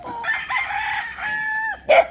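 A fighting cock on a gamefowl farm in Tanauan, Batangas crows loudly and close by, one long drawn-out call followed by a brief squawk at the end.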